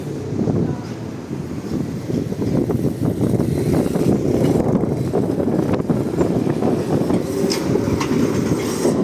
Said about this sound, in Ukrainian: Трамвай двієчка.